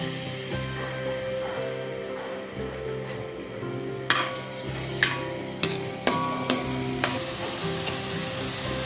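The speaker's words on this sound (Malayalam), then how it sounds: "ഇനി നമുക്ക് ഇതിലേക്ക് ഇഞ്ചി വെളുത്തുള്ളി പേസ്റ്റ് ഇട്ട് കൊടുക്കാം." Ginger garlic paste sizzles steadily in hot coconut oil in a pan for Kerala kappa mutta masala, with sharp clinks of a spoon stirring against the pan in the second half, loud and close with no talking.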